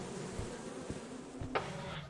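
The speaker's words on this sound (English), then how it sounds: "Watch out for bees." Bees swarm in the video game Lethal Company, a faint, continuous buzzing drone that stays steady and low in level throughout, with only slight shifts.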